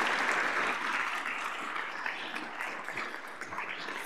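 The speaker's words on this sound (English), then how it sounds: "If we can give Shayna a big round of applause." Applause at a school district governing board meeting for a newly named assistant principal, a moderately faint, steady crowd clapping that slowly thins toward the end.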